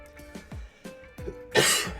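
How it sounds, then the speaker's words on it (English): Several short, throaty coughs from a person still recovering from an illness, spaced unevenly and ending in a harsher, louder burst, with quiet room tone between them. "excuse the couple coughs"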